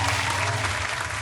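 Audience clapping at a Filipino home-makeover event, a dense, steady wash of applause that holds at even loudness from start to finish with no clear voices over it.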